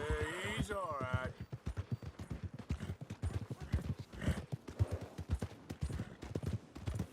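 Horse hooves clip-clop at a steady walking rhythm in Red Dead Redemption 2, a neigh at the start and people talking over the hoofbeats throughout.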